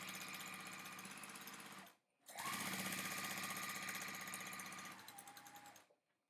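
A sewing machine stitches a quilt block seam in two loud, steady runs of rapid rhythmic chatter, with a short pause between them, then slows and stops.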